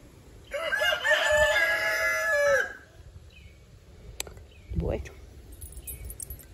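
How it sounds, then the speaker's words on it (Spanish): A rooster crows loudly and close at a chicken coop, followed by scattered soft hen clucks and a brief thump, with a voice speaking faintly in the background. "Mira, esta gallina no se quiere quitar de allá."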